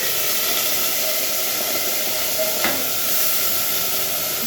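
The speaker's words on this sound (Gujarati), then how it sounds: "એમાં જીરાનો વઘાર કરીશું" Cumin seeds tempering in hot oil, a steady close hiss of frying with one brief sharp crackle partway through and no voices.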